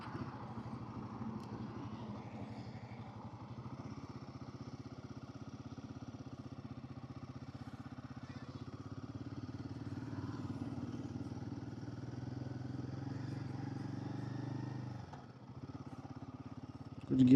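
A Royal Enfield Himalayan 450 motorcycle running on a Sunday ride, a steady low engine drone with mechanical clatter held for most of the stretch, dipping briefly near the end before rising again.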